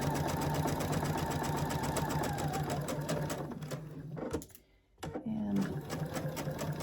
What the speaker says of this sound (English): Just let the machine, the feed dogs, do their work.